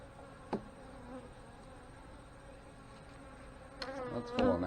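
Honey bees buzz steadily around an open hive while brood boxes are being added, a continuous close insect hum with a few brief knocks and handling sounds on top.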